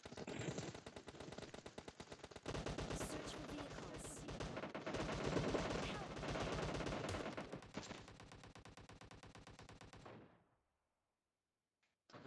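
Gunfire in a battle royale video game: dense, rapid automatic bursts and single shots crackle loudly for about ten seconds, layered and continuous, then cut to near silence.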